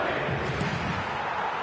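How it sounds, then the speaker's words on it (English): Crowd reaction from an eFootball video game match, a steady, dense roar of many voices that holds at an even level throughout with no clear peaks. "the crowd are reacting to that now"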